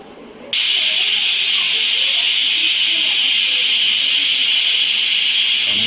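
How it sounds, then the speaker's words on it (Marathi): A pressure cooker cooking egg biryani releases its final whistle, a loud, continuous steamy hiss that bursts in after half a second and holds steady to the end. "कुकरची शेवटची शिट्टी झालेली आहे"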